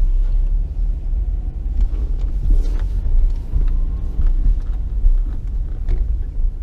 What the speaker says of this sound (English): back in the car and rolling here